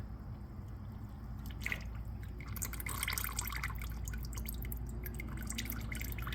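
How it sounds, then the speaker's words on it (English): Transmission fluid trickles out of a car in a quiet, uneven run of small drips and splashes over a low steady background hum. "And now the fluid that trickles out looks just like that."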